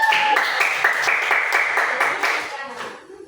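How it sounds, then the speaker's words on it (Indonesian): Classmates in a microteaching classroom clap for a student named Rika, a short burst of brisk, close applause that thins out and fades within about three seconds. "Beri tepuk tangan untuk Rika"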